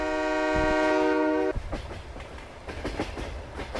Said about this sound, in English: You have to excuse a really loud train.